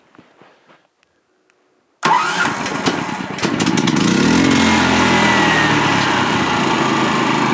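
A Genmax 10500 XIT generator is started by remote: after a couple of seconds of near silence with faint clicks, the engine catches abruptly and settles into a loud, steady, close running drone.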